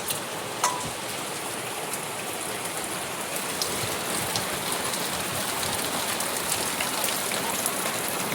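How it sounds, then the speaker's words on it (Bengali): Heavy rain falls steadily and without pause in the Sundarbans, a dense, even hiss of drops on surfaces that holds close and constant throughout, with no talking. "বৃষ্টি এক নাগাড়ে হয়ে যাচ্ছে"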